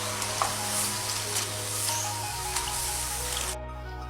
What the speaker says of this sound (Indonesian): goreng sambil terus diaduk-aduk agar tidak lengket satu sama lain